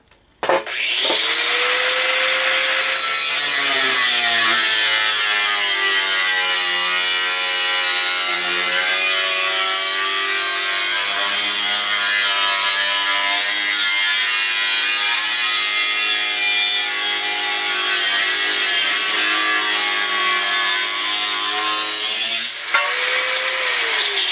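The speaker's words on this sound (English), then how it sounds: "So we're going to cut those two lines and we're going to cut this flange off." A power cutting tool slices through the metal hood flange of a Murray widebody riding tractor, giving a loud continuous high whine with shifting tones that runs for over twenty seconds before stopping abruptly.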